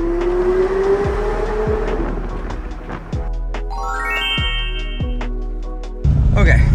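Supercar revving hard inside a tunnel, a loud echoing engine roar with repeated blips and rising revs, ending in a burst of acceleration, with people talking excitedly over it.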